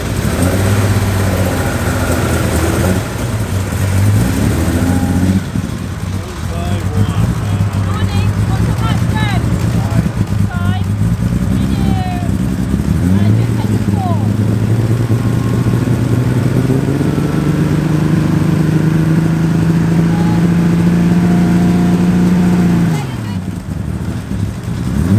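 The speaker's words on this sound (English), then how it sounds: "It's very cool to hear these cars revving up" Classic sports cars, including an MG Midget, an A-series Mini and a Lotus Elan, revving in the paddock at an Oulton Park race meeting: sustained loud engine drone climbing and falling in pitch, with people talking faintly underneath.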